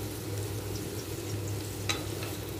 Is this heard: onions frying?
yes